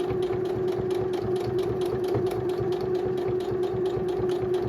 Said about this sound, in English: here I am just stitching along